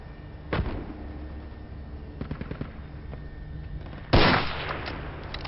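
Gunfire in the military shooter Project Reality, a few isolated shots and a short rattling burst at a distance, followed by one louder, closer report that rings out and fades.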